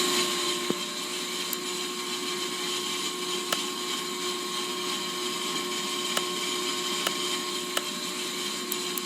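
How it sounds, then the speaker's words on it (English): A brake rotor spins on a lathe in Car Mechanic Simulator, giving a steady, loud machine whir with a high mechanical whine and occasional sharp clicks, no speech. "Let's go ahead and get this rotor turning."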